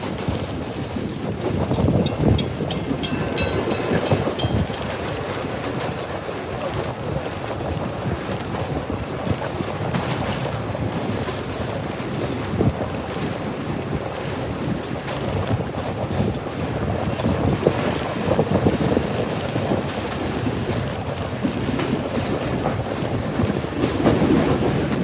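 A steam excursion train rumbles steadily along the tracks through a railroad crossing, with rattling carriages and wind buffeting the microphone, no voices heard.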